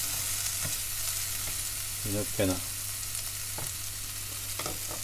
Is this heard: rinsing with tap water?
no